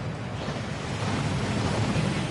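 A waterfall in the game Hogwarts Legacy that washes away enchantments pours as a steady, dense rushing roar, continuous and even throughout with no talking.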